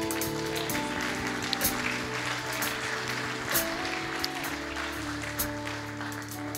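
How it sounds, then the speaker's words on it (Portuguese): Church congregation applauding during a service, a soft sustained patter of clapping under a faint held organ-like tone. "Pode aplaudir o Senhor por essa segunda pessoa."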